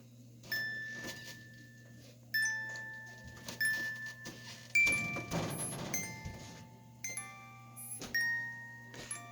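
A music box mechanism under repair, its spring over-tensioned, gives off faint intermittent squeaks and metallic ticks in a rhythmic series of short bursts over a low background hum, with no talking.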